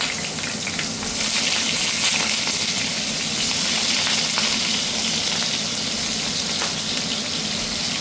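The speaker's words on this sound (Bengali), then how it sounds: "তেলটা গরম হয়ে গেছে, এবার আমি এর মধ্যে বেগুনগুলো ছেড়ে দিচ্ছি।" Eggplant slices frying in hot oil, giving a loud, continuous bright sizzle that holds steady from start to finish, close up with no talk over it.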